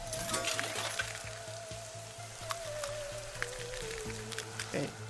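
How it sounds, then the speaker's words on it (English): Acid rain sizzles and patters steadily in the game Little Inferno, with a soft, fizzing hiss of drops beneath a faint repeating tone, with no voices. "acid rain."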